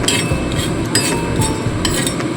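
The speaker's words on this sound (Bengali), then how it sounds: "এই সমস্ত কিছু শুকনো খোলায় ভালো করে ভেজে নিয়ে এগুলোকে ড্রাই রোস্ট করে নেব" Whole spices, including coriander and whole cumin, being dry-roasted in an unoiled pan, heard as a series of sharp metallic clinks and scrapes from stirring, spaced irregularly over a low background hum.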